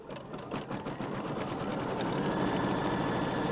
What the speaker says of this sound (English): I'm going to sew out the stitching line for that